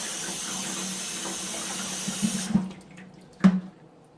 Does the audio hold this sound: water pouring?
yes